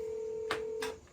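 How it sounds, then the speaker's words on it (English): A telephone line tone hums steadily on a call to a plumber, broken by two short bursts of ring or dial sound, close and fairly quiet. "We're going to make a phone call."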